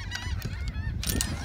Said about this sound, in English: Listen to those seagulls.